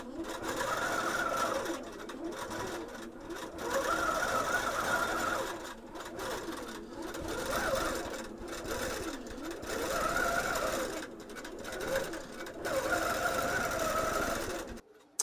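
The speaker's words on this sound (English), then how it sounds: "Time to start sewing." A quilting sewing machine stitches a vintage quilt mounted on a quilting frame, running in long steady bursts with a rapid mechanical chatter that pauses briefly between passes.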